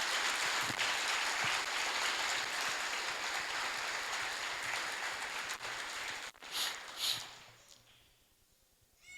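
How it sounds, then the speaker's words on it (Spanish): Church congregation clapping, a dense, steady wash of applause that fills the room for about six seconds, then breaks into a few scattered claps and fades to near silence. "Podemos aplaudirle una vez más a esta palabra."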